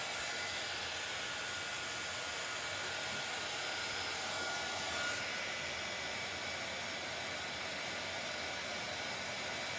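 A craft heat tool blows continuously, melting gold embossing powder on an envelope journal, a close, loud, steady airy roar with no talk over it.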